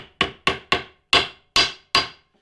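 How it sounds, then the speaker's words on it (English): A hammer strikes a nail against a solid steel anvil surface to clinch it over while assembling a wooden snowshoe frame; six sharp, loud metallic blows ring out alone at an uneven, fairly quick pace. "have one side of that nail on a good solid steel surface to be able to clint that nail over"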